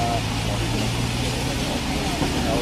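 Steam locomotive on a mainline train arriving at Bishops Lydeard on the West Somerset Railway, a loud, steady low rumble and hiss with engine drone filling the whole moment, no talk heard.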